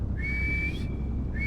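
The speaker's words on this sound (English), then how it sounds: "Or whistle." A character in the video game Nuclear Nightmare whistles a steady, clear high tone that holds for about half a second, drops out, then starts again over a constant low background rumble.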